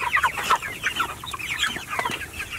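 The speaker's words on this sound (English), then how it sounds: "I have to feed these birds" Several chickens cluck and chatter continuously at close range, overlapping calls with a busy, steady rhythm and no voices.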